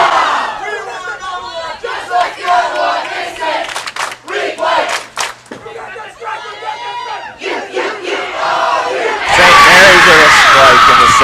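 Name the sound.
crowd cheering at girls' state bowling tournament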